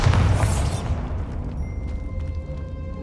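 A Bombarda blasting spell going off in Hogwarts Legacy, a loud booming explosion with a crackling burst that rolls off over about a second, leaving a faint ringing tail behind it.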